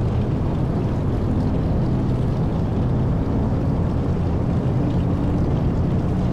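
A Douglas DC-3's left piston engine runs up inside a flight simulator, a dense, steady, close drone with deep rumble that holds level throughout with no talk.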